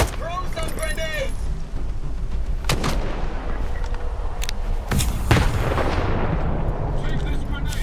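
Grenade explosions in the video game STALKER 2, several loud booming blasts with sharp bursts of gunfire around them, while a voice speaks in game.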